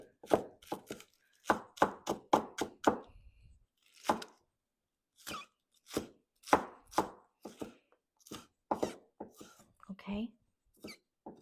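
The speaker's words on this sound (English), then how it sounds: "And also I'm going to go ahead like to chop those materials." Vegetables for meatball soup are chopped on a cutting board with a knife, giving sharp, close thuds in quick bursts separated by short pauses.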